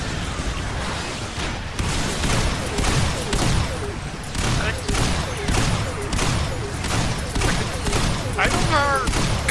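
Rapid bursts of gunfire from the video game Earth Defense Force, firing against a giant king spider, with dense repeated volleys roughly every half second, loud and continuous, with occasional explosive thumps.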